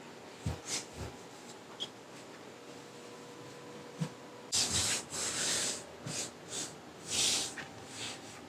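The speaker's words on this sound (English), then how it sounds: "you can see just by kind of stretching and smoothing it" Hands stretching and smoothing a fabric quilt panel on a work surface give soft, close rubbing and brushing strokes, sparse at first and then denser swipes in the second half.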